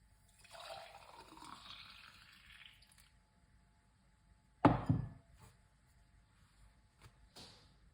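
Juice pours out in a short liquid splash, preceded by a softer earlier trickle and followed by a few faint drips and knocks in an otherwise quiet room.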